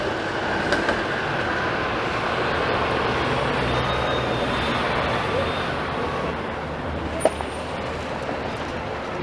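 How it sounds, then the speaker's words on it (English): A Toronto streetcar rumbles past on Queen Street East amid steady city traffic noise, a continuous rolling drone with a brief sharp squeal near the end. "there goes the streetcar."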